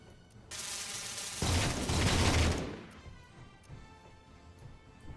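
Turrets firing in Space Engineers: a harsh burst of rapid gunfire breaks out, swells into a heavy, booming barrage, then fades to faint distant shots and rumble.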